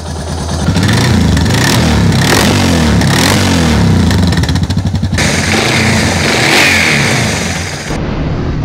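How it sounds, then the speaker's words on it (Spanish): A motorcycle engine, freshly filled with 10W-40 oil, idles roughly while warming up and then revs, its loud mechanical rumble rising and falling close by, with some clatter throughout. "Vamos a proceder a calentar la moto ya que el aceite empiece a trabajar."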